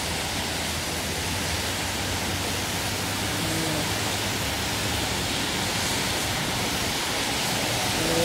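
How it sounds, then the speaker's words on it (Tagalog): Heavy rain pours onto a flooded street, a steady broadband hiss of water that stays constant and fairly loud throughout, with no voices. "20 minutes pa lang ang ulan."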